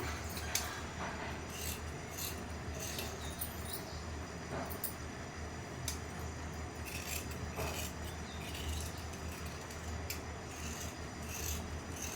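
Scissors cut through blouse fabric with a continuous close rasping, crunching sound that runs steadily throughout, with no talking.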